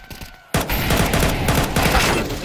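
Rapid bursts of gunfire from the video game Counter-Strike 2, loud and dense, erupting after a brief quieter lead-in and continuing as sustained overlapping shots.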